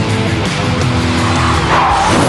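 A car skidding at high speed on a rain-soaked surface while parking, loud, close and continuous, with a rising squeal toward the end over a steady rumble of wet road noise.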